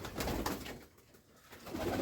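Domestic village pigeons cooing softly, a few low throaty coos at the start and again near the end with a brief lull between, close but quiet.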